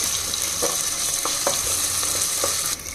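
Ginger garlic paste frying in a hot pan, a dense continuous sizzle with a few soft scraping stirs, close and loud, dropping slightly at the very end.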